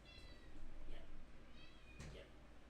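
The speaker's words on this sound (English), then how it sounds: "if you hear her meowing" A house cat meows several times, faint and close, with a steady low hum of room noise behind it.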